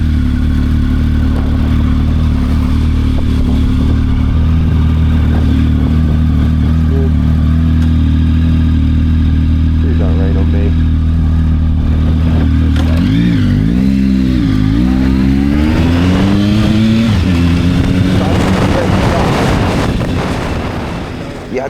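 Motorcycle engine running steadily under a rider's brief spoken remark, then revving and pulling away as the bike moves off, rising pitch sweeps building into loud road and wind noise.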